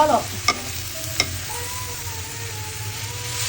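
Food is stirred in a frying pan over a steady sizzle, with two sharp utensil scrapes or clicks against the pan early on, then continuous frying.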